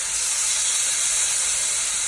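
Shawarma meat frying in a hot pan in its own oil, giving a steady, loud broadband sizzle and hiss that holds without a break throughout.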